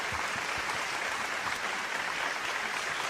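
Steady, dense applause from a stage audience welcoming a guest, loud and continuous throughout with no voices.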